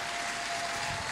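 Worship congregation applauding together, a steady continuous wash of clapping filling the space at moderate level with no clear breaks.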